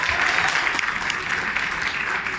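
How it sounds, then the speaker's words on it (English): Applause from a press conference audience for four football captains: a dense, steady burst of clapping that fills the short stretch without speech. "Let's give them a round of applause."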